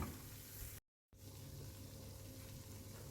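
Almonds and tomato paste roasting together in a pan give off a steady close-up sizzle and frying crackle, broken by a short silent gap before continuing evenly.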